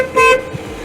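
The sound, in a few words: second car horn of a Mercedes 300 CE W124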